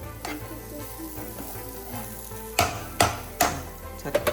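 Sliced carrots fry in a pan for a carrot fry, a steady oil sizzle under light stirring, ending in several sharp close clanks of a utensil against the pan.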